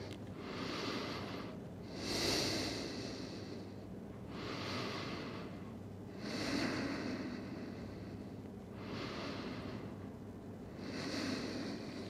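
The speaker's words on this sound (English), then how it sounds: "taking slow breaths in and out here" Slow, even breathing in and out during yoga child's pose, about five soft airy breath cycles repeating at a calm steady rhythm, close and quiet with no talking.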